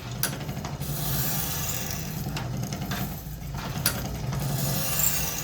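A sawmill band-blade sharpener with a file that dresses each tooth face, cranked by hand, gives a repeating mechanical ratcheting and rasping rub over a steady low motor hum, with regular clicks as the blade advances.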